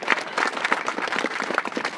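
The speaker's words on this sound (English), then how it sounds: "Will you all give them a round of applause for sitting out in this frigid cold?" An outdoor crowd claps at a topping-out celebration for a rec center in frigid cold, a loose, uneven patter of individual hands with distinct claps standing out, moderately close and fairly sparse.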